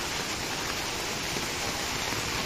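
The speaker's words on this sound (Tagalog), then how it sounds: "Walang tigil yung ulan mga boards." Heavy rain pours down during Super Typhoon Carina in July 2024, making a dense, steady hiss that fills the whole clip. No one speaks.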